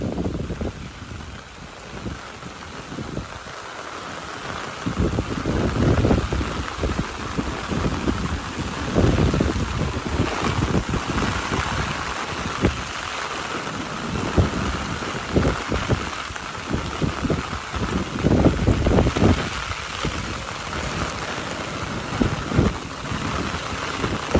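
A heavy rainstorm with gusting wind pours down on harvested rice bundles outdoors, a loud, dense roar of rain that surges and eases in waves throughout, with no voices.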